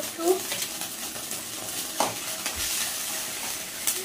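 Ginger paste frying and being stirred in a hot pan: a steady sizzle with scraping stir strokes and a few light clinks of utensil on metal, close and clear, no talking.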